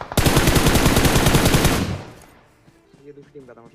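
A long burst of rapid automatic gunfire from the battle royale mobile game BGMI hammers loudly for about two seconds, then cuts off to near quiet with faint, low voices.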